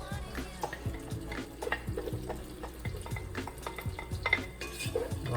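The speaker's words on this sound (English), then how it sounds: "Oil is warm, so I'm gonna go ahead and add the shallots" Shallots hitting warm oil in a pan with two bay leaves, a soft steady frying hiss under close clinks and scrapes of a utensil stirring against the pot, with no talking.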